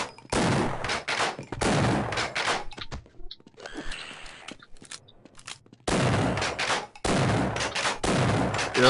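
Loud bursts of gunfire in the Half-Life game, two clusters of rapid shots separated by a quieter stretch of ambient game noise, with no voices.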